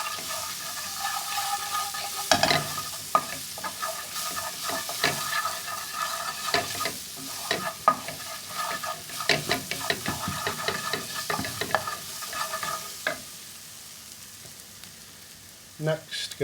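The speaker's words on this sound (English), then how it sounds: "Just stir that into the onions." Tomato puree being stirred into frying onions in a pan, with soft sizzling under repeated scraping and clinking stirs in an irregular rhythm, close up and fairly quiet.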